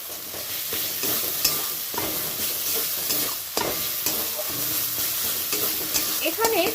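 Ginger-garlic paste and green chilies fry in a pan for coriander chicken, a dense continuous sizzle with frequent spatula scrapes and clinks against the pan, close and steady, with no talking.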